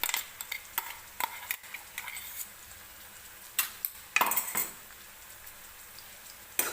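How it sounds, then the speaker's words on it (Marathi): Green chili, garlic and cumin paste fries in hot oil while being stirred, giving a soft sizzle broken by a series of sharp spoon-on-pan clinks and scrapes, fairly close and moderately loud. "मिरची सुद्धा आपल्याला छान अशी तेलामध्ये भाजून घ्यायची आहे"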